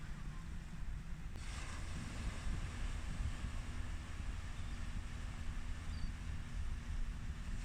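Steady low rumble of surf on a beach with wind noise across the microphone, a continuous wash of waves with no voices.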